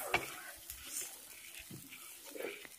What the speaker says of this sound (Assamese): এইখিনি মই ভালদৰে মিহলি কৰি ল'ম, যাতে ভালদৰে এই আলু আৰু বিলাহীখিনি পানীৰ লগত মিহলি হৈ যায়।